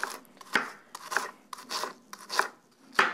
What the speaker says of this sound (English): So just use a knife to kind of shred them into little pieces like that.